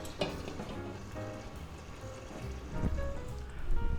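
Sausage cooking in a covered pan gives a steady, moderate sizzle and crackle with scattered pops, growing a little louder near the end.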